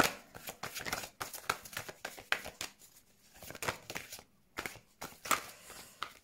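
Oracle cards are shuffled and drawn close by, with a rapid series of crisp riffling and flicking bursts separated by short pauses, alone without talk.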